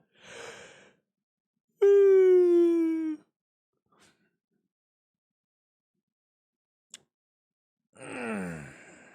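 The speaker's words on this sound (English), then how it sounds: "I apologize for that loud ass yawn, stretch, grunt" A loud, drawn-out yawn that ends in a stretching grunt from a man during a Lost Judgment game stream. It is close and voiced, with a descending pitch, and a shorter groaning breath follows several seconds later in a quiet room.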